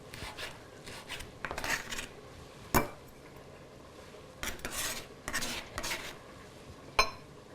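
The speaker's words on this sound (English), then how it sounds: "And chop 1 tablespoon of cilantro." Knife chopping fresh cilantro on a cutting board for an Indian-style ground beef and peas dish, heard as several separate close rasping, scraping cuts spaced irregularly with quiet gaps between.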